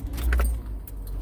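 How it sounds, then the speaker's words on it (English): A car is started for a general driving lesson in Burnaby, with a jangle of keys and a low engine rumble close by, brief and fairly loud with no talking. "start the car"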